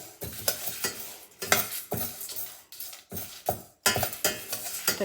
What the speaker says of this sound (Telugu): డ్రై చిల్లీస్ ఇవి కూడా వేసుకుందాము ఇవి కూడా కొంతసేపు ఇట్లా ఫ్రై చేసుకొని